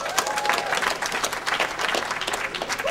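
Audience at a live comedy show breaks into steady applause, a dense wash of many clapping hands with a few scattered whoops, holding level throughout and swelling slightly at the very end.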